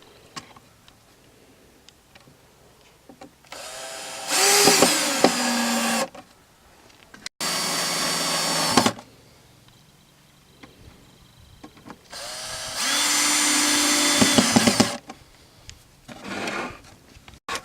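Cordless drill drives screws into wood to fasten a metal queen excluder grid on a hornet trap, in three loud bursts of a couple of seconds each with quiet pauses and light handling noise between.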